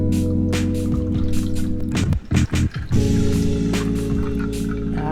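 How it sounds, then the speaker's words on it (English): Pink Whitney drink pours into a glass with ice, a continuous wet gurgling stream over a steady background hum, broken by a couple of short splashy clinks partway through; no talking. "and we're gonna pour it."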